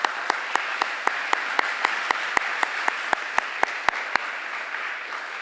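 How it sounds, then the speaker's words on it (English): An audience at a middle school 8th grade recognition ceremony applauds in a steady wash of clapping, with sharp, evenly spaced claps standing out until the final second. "So let's give them a round of applause."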